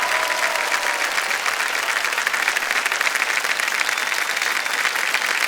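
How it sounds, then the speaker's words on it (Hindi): Thunderous studio audience applause on the KBC India quiz show, loud continuous clapping from a large crowd holding steady from start to finish. "जोरदार तालियां बज जाए रश्मि जी के लिए।"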